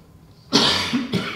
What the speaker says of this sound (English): Funny talking about healing when I have a cough.